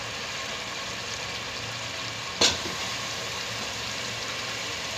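Cauliflower and spinach drop together into a pan of hot oil for a gobhi gosht dish. A single sudden hiss bursts out, then the steady sizzle of frying carries on at an even level.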